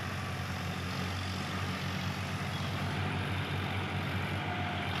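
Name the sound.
two tractors, Swaraj and Vivo 50, pulling one rotavator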